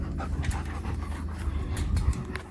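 A puppy pants rapidly and steadily close by, quick breathy huffs over a low rumbling background outdoors at a chicken tractor build site, without speech.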